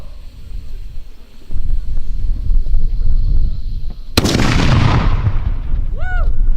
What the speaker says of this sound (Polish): I w ten oto sposób armatka wiwatówka dała znać, że coś się zaczęło, coś się powoli kończy.